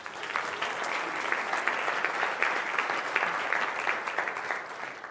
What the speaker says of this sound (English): Thank you for that kind applause.